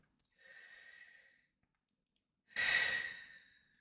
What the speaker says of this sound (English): So take a deep breath, and I'll take one too